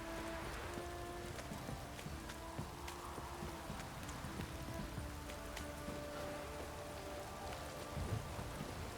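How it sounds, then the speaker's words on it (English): Rain pours down in The Witcher 3 video game, a steady, faint hiss of falling drops with scattered patters and a few hoof-like clops, continuous throughout with no talking. "This downpour's a bastard, it is."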